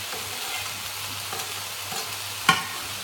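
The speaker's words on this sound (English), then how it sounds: "Can you hear that sizzle? That's the noise you want to hear." Garlic and stir-fry ingredients sizzle steadily in a hot frying pan during Thai basil stir fry cooking, a soft continuous crackle with a brief sharp clink near the end.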